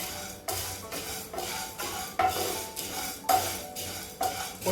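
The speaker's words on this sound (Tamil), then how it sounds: "ட்ரை ரோஸ்ட் பண்ணிக்கலாங்க எல்லாமே. நல்லா சிவக்க வறுத்துக்கணுங்க." Lentils dry roasting in a pan over a medium flame, with a spoon or spatula scraping and stirring against the metal in repeated strokes, producing a steady rasping rattle that swells with each stir, close and fairly loud with no talk.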